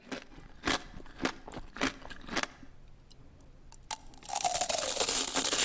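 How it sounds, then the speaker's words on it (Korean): Someone biting into tanghulu, sugar-glazed candied fruit: a series of sharp, close crunches of cracking hard sugar shell in an irregular rhythm, followed by a louder burst of crackling and rustling. "탕후루 먹는 소리"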